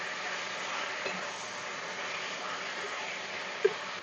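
Taro leaves are stirred into fried onion, garlic and chili in a pan, a soft, even sizzling hiss with a single faint utensil clink near the end.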